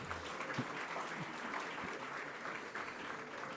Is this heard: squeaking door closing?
no